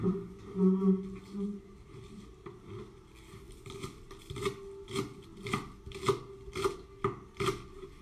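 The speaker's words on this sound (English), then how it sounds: "So now I cut them." A knife chopping onions on a board, starting with slower, softer cuts, then a run of sharp, evenly spaced chops that grow louder and closer, with brief talk near the start.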